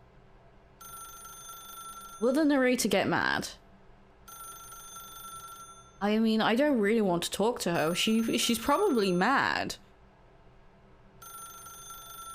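A telephone rings repeatedly inside The Stanley Parable Ultra Deluxe video game, its shrill electronic bell pattern recurring in steady bursts, with someone talking over part of it.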